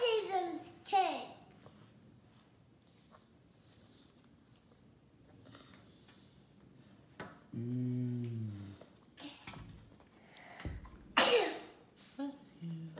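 A single sharp, loud sneeze bursts out near the end, amid quiet household sounds and a child's vocal noises and speech.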